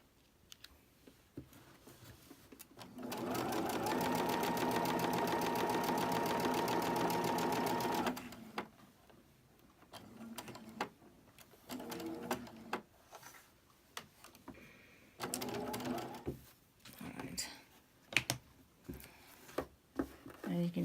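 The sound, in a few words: sewing machine stitching quilt pieces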